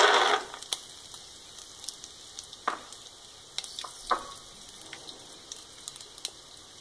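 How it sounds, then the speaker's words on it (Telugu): Peanuts dry-roasting in a pan on a stove, giving a soft steady hiss with scattered light clicks and crackles as the nuts shift and pop, with a brief louder burst at the start. "పల్లీలు వేసి వేయించుకుందాం."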